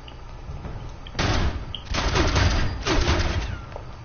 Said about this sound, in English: I'll just use this assault rifle that I picked up